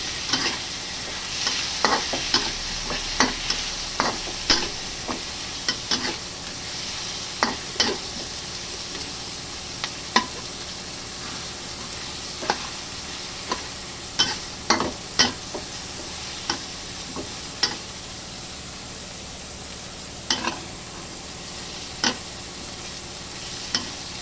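Pork for a jackfruit and pork nilaga being cooked and stirred in a pot, with irregular clinks and scrapes of the utensil over a low, steady bubbling sizzle throughout.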